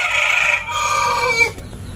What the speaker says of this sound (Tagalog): pakainin lang natin yung ating shamo rito